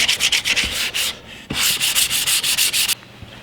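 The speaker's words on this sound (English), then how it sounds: "So that stock has been sanded up to a 400 grit and just dry wiped down." Sandpaper rubs back and forth over a wooden Russian SKS rifle stock, worked up to 400 grit, in rapid rhythmic strokes: two close, steady bursts separated by a short pause, with no talking.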